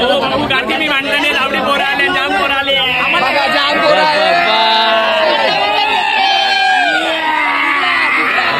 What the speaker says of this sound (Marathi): बघा गोंगाट बघू शकता तुम्ही कसा कायचा गोंगाट आहे